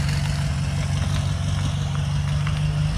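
A warmed-up BMW G80 M3 engine idles at a steady low rumble, with a faint high turbo whine layered over it.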